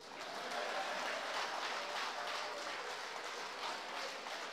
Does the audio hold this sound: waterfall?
no